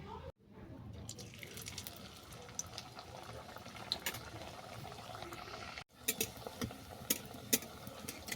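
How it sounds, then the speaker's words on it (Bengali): Radish-stuffed kachoris frying in hot oil, a soft bubbling, crackling sizzle heard close and fairly quiet, with a brief drop near the start and another just before the end. "এরপর কচুরিগুলো আমি ভেজে নেব।"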